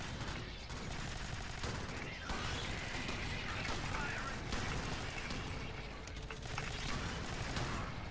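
Continuous rapid gunfire and weapon clatter from the video game Alien Swarm Reactive Drop fill a dense, even wash of shooting with occasional bursts and impacts, loud throughout with voices faintly mixed in.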